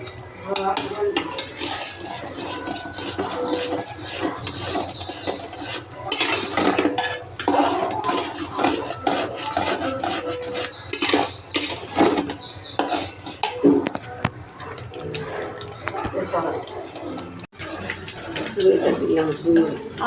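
Semolina halua being stirred in a pot with a spoon, steady scraping and clinking of utensil against metal running throughout, with kitchen clatter and intermittent talk over it.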